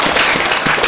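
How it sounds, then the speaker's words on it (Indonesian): Applause from an audience at an Indonesian regional government event, dense steady clapping filling the whole brief moment, close and loud. "Baik, kita tepuk tangan sekali lagi."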